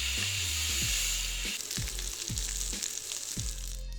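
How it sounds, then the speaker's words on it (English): Loud, steady sizzling of a steak searing in a hot pan, with a rhythmic low thumping running underneath. "We're looking for that sizzle"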